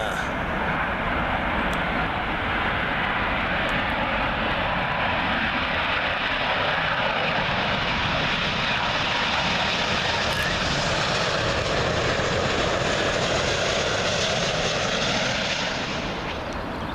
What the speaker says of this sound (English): Next in to arrive, American Airlines 777 from Charlotte, North Carolina.